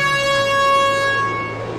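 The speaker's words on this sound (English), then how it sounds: "Those air horns, man." A sustained, loud air horn chord in a racing video game, steady layered tones holding for nearly two seconds over a low engine rumble, fading slightly toward the end.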